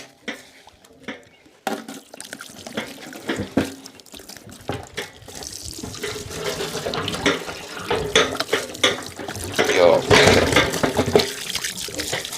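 Tap water runs steadily while goat meat is rinsed for an outdoor whole-goat roast, the flow growing louder and splashier toward the end, with faint talk in places.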